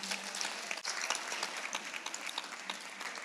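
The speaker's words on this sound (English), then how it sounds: "Let's give all of them a big round of applause." A school audience at a youth center parent night breaks into dense, sustained applause, many hands clapping at once, close and loud throughout with no speech.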